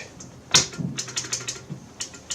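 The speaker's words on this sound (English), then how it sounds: "This is the IBM Model M1/M2 keyboard, buckling springs." Keys clack on an IBM Model M1/M2 buckling spring keyboard, with one sharp loud click followed by a quick run of lighter, crisp strokes close to the microphone.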